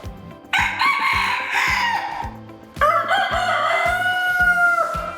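A rooster crows twice, long and loud, over a steady, thumping rhythmic beat that keeps going underneath.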